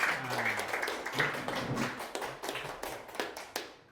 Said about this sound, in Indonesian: Berikan aplaus untuk teman kita